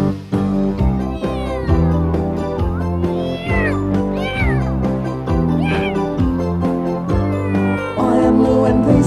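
Several cats chasing rats meow repeatedly over a busy, steady musical backing, their rising and falling calls standing out clearly and loudly.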